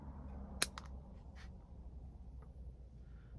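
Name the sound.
scissors snipping a Chinese elm bonsai root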